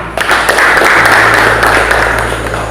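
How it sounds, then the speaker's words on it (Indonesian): A small classroom group gives a brief round of applause, a dense patter of claps that holds steadily for under three seconds before easing off, fairly loud and close. "Ya, tepuk tangan untuk kalian semua."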